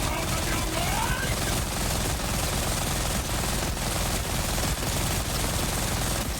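The Kaoson gun in Borderlands 4 fires in a dense, continuous rapid-fire stream of gunshots that stays loud and steady throughout, with no speech.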